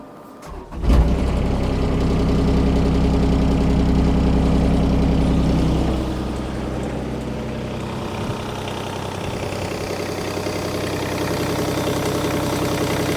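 A diesel engine cranks and fires, then settles into a steady idle after its fuel filter has been primed, running loud and close for a dozen seconds with a slight drop in pitch partway through.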